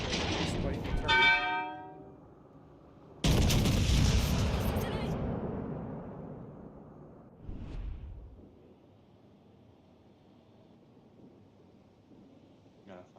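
Heavy battleship salvos from a Yamato in the World of Warships Legends naval game, a loud booming burst followed by a long rumbling roll, then a second, smaller impact thud fading into low distant rumble.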